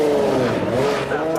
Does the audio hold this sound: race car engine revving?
yes